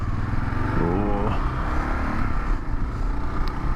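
A 2022 Kawasaki KLR 650 single-cylinder motorcycle rumbles steadily through its single-canister exhaust, a loud close idle with a brief rev, no talking over it.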